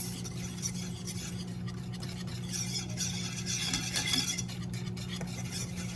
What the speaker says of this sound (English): now we're going to whisk this together